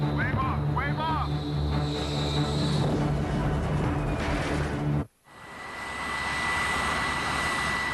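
A US Navy A-6 Intruder jet on approach to an aircraft carrier, a steady engine roar under radio-style talk, cut by a sudden brief dropout, then a broad rushing jet noise with a thin whine.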